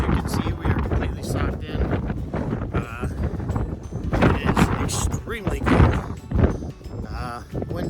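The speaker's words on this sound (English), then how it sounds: "The gust of the winds about up to 60 miles an hour" Strong wind gusting up to about 60 miles an hour on the cold, fog-bound Mount Washington summit, roaring and buffeting the microphone in uneven surges while a person talks over it throughout.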